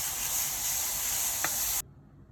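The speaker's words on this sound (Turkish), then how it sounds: "Bir miktar yağ koyarak havucumuzu soteliyoruz." Carrots sautéing in oil, a loud, continuous close sizzle with one small stir click that cuts off abruptly near the end.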